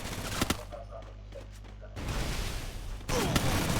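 Gunfire from a shooter video game in a criminal-versus-psycho match, with a low steady drone under bursts of shots, then a louder noisy stretch, a brief dip and another loud burst near the end.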